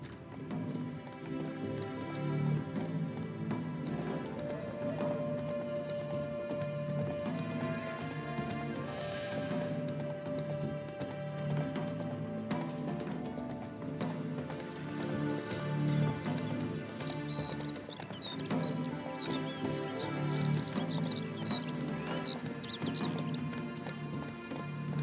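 A horse gallops in The Witcher III video game, its hoofbeats drumming steadily throughout alongside occasional neighs, all under continuous game music.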